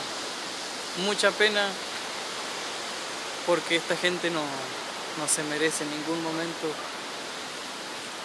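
Water flowing steadily in an irrigation canal in Chile Chico, a constant broadband rush throughout, with someone speaking over it in short phrases.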